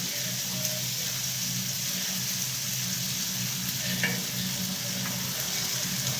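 Food stir-fries with soy sauce in a hot pan, giving a steady, close sizzle and crackle throughout with faint stirring and scraping touches, no voice over it.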